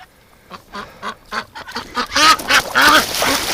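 Ducks quack and honk in a wintry yard, one bird limping, their calls growing denser and louder toward the end, close and overlapping with faint splashing and handling noise.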